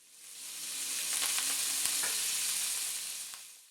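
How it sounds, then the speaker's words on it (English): Food frying and being tossed in a pan, a loud hissing sizzle that swells and fades with a few soft knocks as it is moved around. "They'll fry for about 2 to 3 minutes until they're nicely browned"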